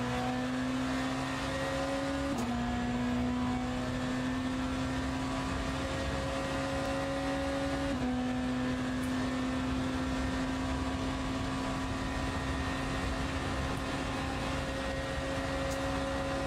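A BMW hypercar engine in the Le Mans Ultimate racing game drones steadily at high revs, with sustained harmonic tones that shift in pitch at gear changes. The sound is loud and continuous with no talk.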